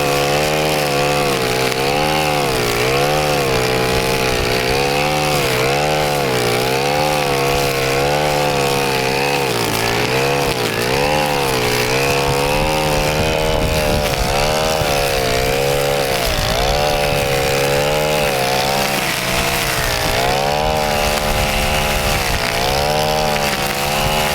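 ECHO and STIHL string trimmers run continuously at high throttle, a loud, steady two-stroke buzz with slight rhythmic pitch wavering throughout, no voices present.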